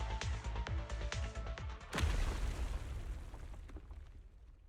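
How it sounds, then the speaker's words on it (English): A heavy explosion bursts out in the video game Zenless Zone Zero, a sudden loud boom followed by a long rumbling, crumbling decay after a stretch of rapid thumping impacts. "The explosion causes the surrounds to collapse"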